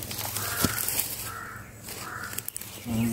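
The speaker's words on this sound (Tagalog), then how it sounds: "Galit siguro tong uwak siguro." A crow caws angrily outdoors in a few harsh, repeated calls at moderate distance, with faint movement noise in the background.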